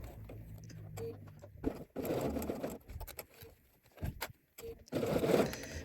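A sewing machine stitches a zigzag stitch on swimsuit fabric in short, quiet runs broken by pauses, the motor whirring softly in bursts with small clicks between.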